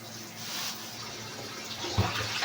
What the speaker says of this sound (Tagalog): First, hugasan muna natin ang ating bangus.